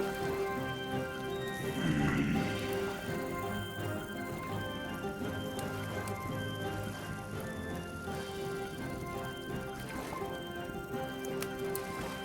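Steady rain falling in the Vintage Story survival game, a continuous even hiss that fills the whole stretch at moderate loudness, with layered background tones running underneath and no voice over it.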